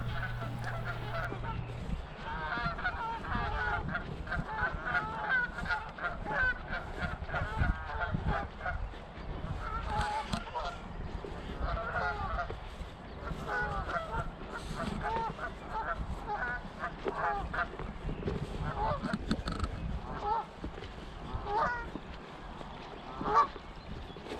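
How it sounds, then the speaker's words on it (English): A flock of geese by a river honking and calling continuously, many overlapping voices at moderate distance, a busy chorus with varied calls and little else audible. "I do enjoy the lovely sweet music of the geese"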